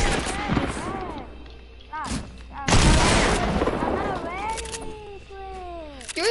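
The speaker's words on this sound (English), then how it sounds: "You're shooting at me." Bursts of video game gunfire aimed at the player in a shooter, sharp cracks and volleys mixed with chirpy effects, while people talk over the shots.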